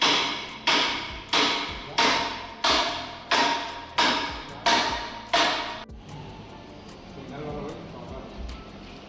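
Seven loud, evenly spaced hammer blows ring out about once every 0.8 seconds on an industrial Kirloskar 4HA4Q air compressor during a piston rod replacement, each strike decaying quickly, then the striking stops and a quieter workshop hum remains.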